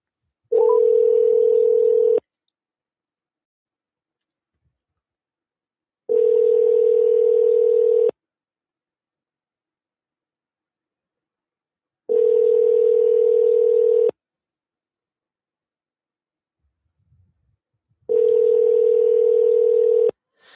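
An outgoing international phone call rings back with a steady, loud ringing tone in four evenly spaced two-second bursts separated by silence.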